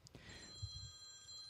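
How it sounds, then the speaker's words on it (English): A telephone rings faintly in a room during a DJ scratching class, a brief thin electronic tone that holds steadily, with no talking over it. "Oh man, I get a phone call while I'm teaching class."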